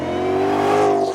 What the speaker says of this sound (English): That Corsa Sport is dead quiet at idle, and then when you crack it, it comes to life for sure.